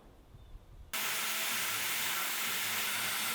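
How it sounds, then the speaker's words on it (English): A plasma cutter slices square holes in sheet metal for a pickup toolbox organizer, starting abruptly after a quiet moment as a loud, steady, broadband hiss that continues to the end. "I used my plasma to cut some square holes for the ratchets"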